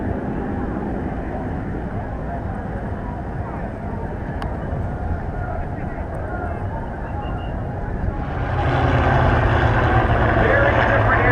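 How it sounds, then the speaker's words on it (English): An airplane prepares to take off at an airshow, with a steady engine drone that holds for several seconds before growing louder and fuller toward the end. "Another plane getting ready to go out and fly."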